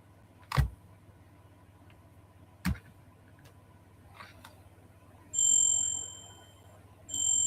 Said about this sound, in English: you can probably hear it anyway. That's the hotel bell.